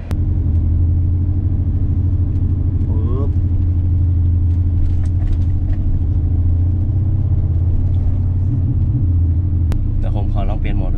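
Engine exhaust sound effect played from a phone, a loud continuous low rumbling drone like an idling car with a steady throb, with faint voices and small noises on top.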